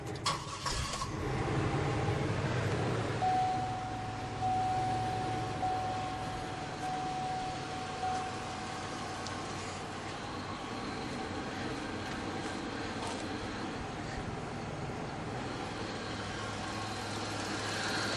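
A 2003 Chevrolet Monte Carlo SS engine cranks and catches, then settles into a steady, fairly quiet idle with a brief whine early on, heard from nearby in a workshop.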